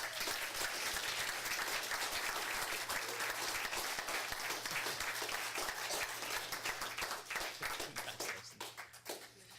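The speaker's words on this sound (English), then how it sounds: "Give her a round of applause" A crowd at a Turlock City Council meeting applauds Mary Souza, named City of Turlock Employee of the Month, with dense, sustained clapping over a low steady hum that thins into scattered claps near the end.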